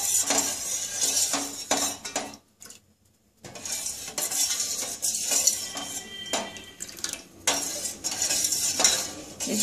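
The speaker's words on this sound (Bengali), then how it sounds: "সবসময় এটাকে নাড়াচাড়া করতে হবে, দুধটা যাতে কোনোভাবে নিচে না লাগে।" Milk for firni is stirred continuously in a pot, spoon scraping and clinking against the metal in repeated strokes, close and fairly loud, with one brief pause.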